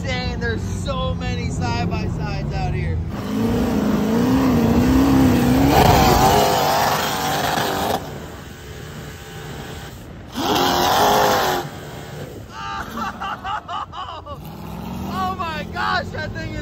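Side-by-side sand cars at a busy dune camp rev their engines, loud rising and falling roars and passing engine noise filling the scene while people talk over them.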